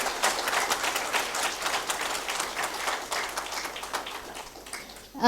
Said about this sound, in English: Yes, please, a big round of applause for ma'am.